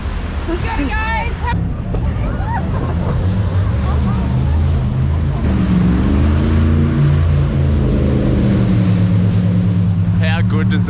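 Jet boat engine roaring in a river gorge near Queenstown, a loud, steady throaty drone that rises in pitch partway through as the boat accelerates, with voices and chatter underneath.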